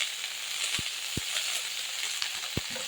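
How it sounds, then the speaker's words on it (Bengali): Diced potatoes and figs sizzling in a pan with oil and turmeric, a steady close hiss broken by a few soft knocks as they are stirred and turned. "আর আলুটাকে একটু নেড়ে চেড়ে নেব"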